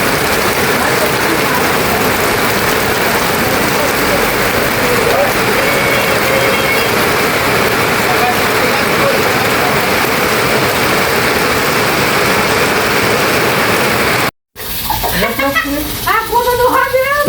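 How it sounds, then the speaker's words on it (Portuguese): Heavy rain pours down in a steady, loud, unbroken hiss that fills most of the stretch, then breaks off sharply before a few muffled clatters and a voice at the end. "E começou a chover, pessoal, muita chuva."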